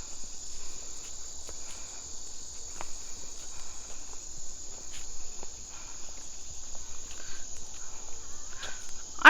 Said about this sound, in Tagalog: Mga kuliglig.